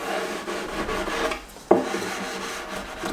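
Block of wood rubbed firmly along melted-glue edge banding to press it down, a rasping scrape in repeated strokes, close up, with one sharp knock partway through.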